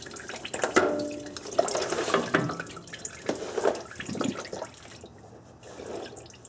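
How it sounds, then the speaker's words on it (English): Oil drips and trickles from a tilted oil filter during an oil change, a wet, uneven splatter of close liquid drops that gradually thins out toward the end. "you want to tilt it down to drain the rest of the oil out of the filter"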